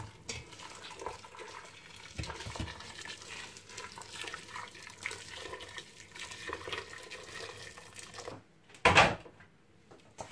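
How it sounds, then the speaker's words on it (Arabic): Boiling water pours steadily over calf's feet in a pot, a continuous rushing, splashing flow that ends with a brief louder splash. "وغادي نديرو عليه الماء طايب"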